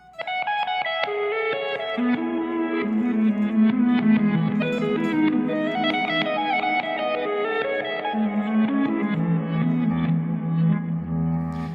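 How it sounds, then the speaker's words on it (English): A guitar washed entirely in reversed, swelling delay, notes blooming backward into each other in a dense, dreamy, continuous wash with no clean attack. "We just want a subtle, gentle reverse sound"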